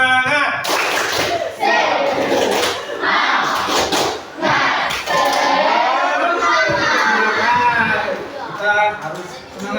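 Schoolchildren in a junior high classroom clap a rhythmic group cheer, a fast run of sharp hand claps repeated in bursts across the whole span, with children's voices shouting along and a teacher's voice mixed in.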